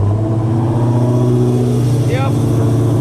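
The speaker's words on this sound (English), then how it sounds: "Cold start. Oh God, this is gonna be loud." Nissan 350Z engine in a car-sized go kart on a cold start, a loud, close, rough idle with a deep steady rumble and a brief rising rev partway through.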